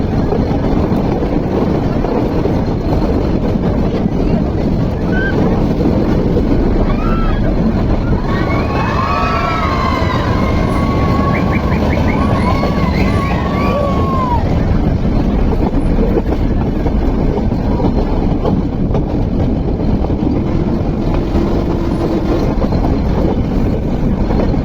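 The Ooty toy train runs along its mountain line, a steady rumble and rattle of wheels with heavy wind buffeting the microphone, while chirping birdsong drifts in briefly midway.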